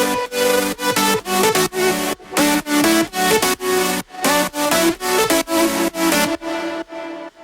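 Layered synth chords and lead lines from an electronic remix, playing as a dense, full-spectrum rhythmic pattern with steady pulsing stabs and a brief fade at the end, no voices.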